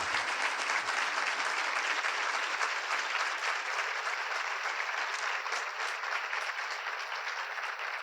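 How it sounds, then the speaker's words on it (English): A conference audience gives a panel discussion on women shaping the region a round of applause, a dense, steady clapping from a large crowd that holds at an even level throughout. "And can we please give our entire panel a round of applause?"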